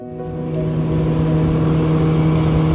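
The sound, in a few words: jet boat engine warming up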